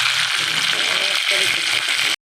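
Garlic and curry leaves fry loudly in a pan, giving a dense, continuous close sizzle with a faint voice underneath. It cuts out abruptly near the end.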